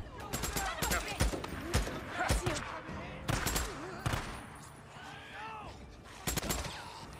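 Gunfire in the video game Days Gone, a series of sharp shots in bursts with some rapid strings, mixed with speech and background game sounds.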